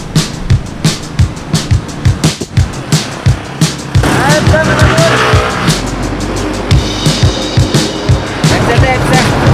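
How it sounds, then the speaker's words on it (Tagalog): A jeepney pulls up on a busy street: rhythmic knocking engine pulses give way to a loud, steady rumble of the vehicle close by, with voices mixed into the traffic noise. "Maya-maya ay dumating na rin agad yung pangalawang jeep."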